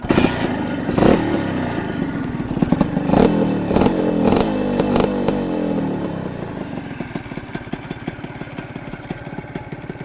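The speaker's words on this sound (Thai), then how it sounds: "สวิกเปิดปั๊บสตาร์ท เครื่องดีครับเครื่องดีพร้อมใส่งาน" A Honda Tena dirt bike engine fires and runs, loud and close, with a rough revving clatter that settles into a fast, steady idle putter, without talk.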